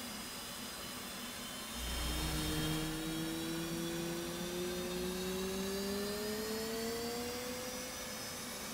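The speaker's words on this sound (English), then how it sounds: "that's our right engine started" An F/A-18C Hornet's right engine spools up in the DCS World flight simulator, a rising turbine whine climbing steadily over a low rumbling hum with no talk.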